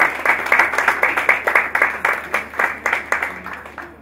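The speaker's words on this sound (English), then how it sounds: "I think we deserve another round of applause." Audience applause at a hackathon event: a modest crowd clapping in fairly regular bursts, the claps distinct and close, with faint voices underneath and a low steady hum.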